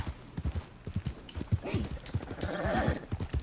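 A horse in the video game Red Dead Redemption 2 trots along with steady clip-clopping hooves, and partway through it gives a clear whinny that rises over the hoofbeats. Close and moderately quiet.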